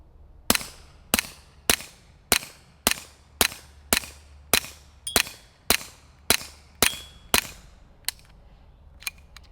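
Retay RXP22 pistol firing CCI standard-velocity .22 rimfire rounds outdoors: about fifteen sharp, evenly spaced cracks in steady rhythm, loud and close, with short ringing decays and no talking.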